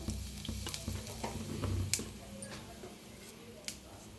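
Cumin and nigella seeds frying in hot oil with a low, steady sizzle and a few sharp ticks and pops scattered through it, close and fairly quiet, with no talking.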